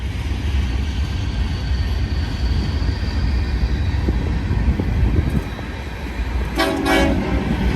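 A Union Pacific manifest freight train rolls past westbound on the main track with a continuous close rumble and wheel noise, and a brief horn-like tone cuts in near the end.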